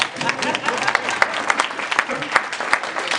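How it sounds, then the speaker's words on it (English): Audience clapping at a networking keynote talk, a scattered run of individual claps with distinct sharp hits throughout, fairly close and moderately loud, with no talk over it. "That's okay to clap."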